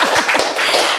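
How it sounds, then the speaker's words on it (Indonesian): Brief burst of hand clapping in a podcast studio, a few quick soft claps close to the microphone over roughly a second, with no talking. "Tepuk tangan dulu nih."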